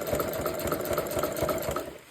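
A sewing machine stitches a jelly roll rug with a sweatshirt center, running steadily at close range with a fast, even mechanical rhythm of needle strokes and no talking.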